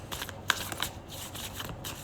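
Tarot cards are shuffled and drawn by hand, giving close, rapid riffling and flicking with a sharper snap midway, fairly loud throughout; no voices.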